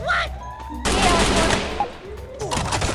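Gunfire in the mobile shooter Free Fire, a dense burst of rapid automatic shots filling the middle of the moment, with a faint voice and game tones at the start and a few shots trailing after.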